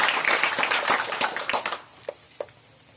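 A church congregation claps loudly and briskly in praise, a dense burst of hands for about two seconds, then a few scattered isolated claps and a soft murmur as it dies away.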